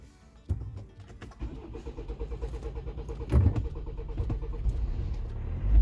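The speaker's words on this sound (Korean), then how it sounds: "이제 시동 한번 걸어 보겠습니다." A car's diesel R engine is cranked and started after a fuel filter replacement. Starter clicks and churning lead into a rough catch and a low, steady idle that stays close and fairly loud, with no voices over it.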